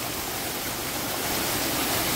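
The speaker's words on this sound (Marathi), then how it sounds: "माझ्या राईट साईडला खूप मोठा वॉटरफॉल आहे जो आता दिसत नाही आहे, पण एवढा भव्य स्वरूपात तो पडतोय ना" Steady, dense roar of rushing water from a large waterfall at Harishchandragad Fort in the Sahyadri hills, continuous and loud throughout with no pauses or voices.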